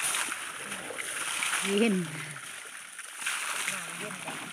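Water splashing and sloshing as Plai Kaew, a 69-year-old elephant with impaired sight, bathes in a pond, with irregular, fairly close splashes under intermittent talking.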